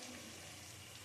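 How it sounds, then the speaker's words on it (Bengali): Milk pouring steadily into a pan of chicken curry, a continuous soft liquid splash and hiss with no pauses. "এবার দিয়ে দেবো দুধ"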